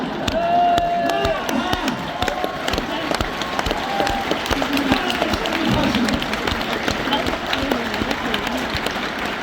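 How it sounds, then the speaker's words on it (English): A crowd at a live evening show breaks into applause mixed with cheers and shouts. The sound is a full, sustained roar with individual voices calling out through it. "let's have a huge round of applause for the manager of the B&Q in Warrington"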